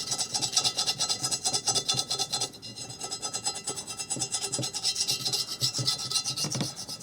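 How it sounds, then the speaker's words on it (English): A copper penny is rubbed against a rusty .22 rifle barrel soaked in kerosene, giving a steady, close rasping scrape that continues almost without a break, with brief lulls and small clicks between strokes. "I'll take this copper penny, put it in this kerosene, and start rubbing against the rust."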